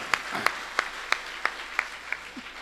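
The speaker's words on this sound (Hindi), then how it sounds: "एक बार जोरदार तालियां बजाओ" An audience at a large open poetry recital (kavi sammelan) in Sarwania Maharaj gives a short run of about eight loud, evenly spaced claps in a steady beat, with no talk over them.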